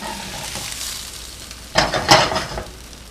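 Swiss rösti potato cake frying in a pan after being flipped, a soft steady sizzle that jumps into a louder burst of spitting and scraping as it slides back onto the hot surface.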